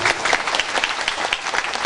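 Children in an Islamic study gathering clap together in a steady, dense burst of applause, fairly loud and close, filling the whole moment without any talk over it.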